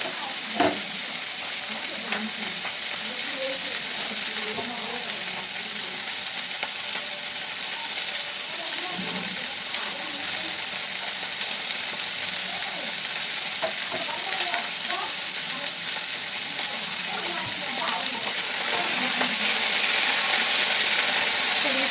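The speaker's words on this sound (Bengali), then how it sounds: "এদিকে তাওয়াও গরম হয়ে গেছে, দিয়ে দেবো" A roti cooks on an overheated tawa in a small, hot home kitchen, giving a steady soft sizzle and hiss with occasional faint scrapes and clinks, close by and fairly even, swelling slightly louder near the end.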